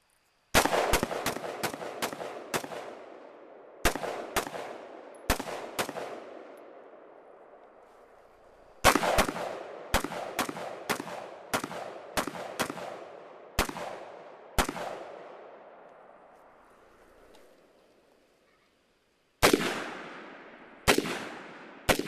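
An M16A1 rifle fires a full magazine through standing, kneeling and prone positions, loud sharp single shots in irregular clusters with brief pauses, each crack trailing a ringing echo, no talk.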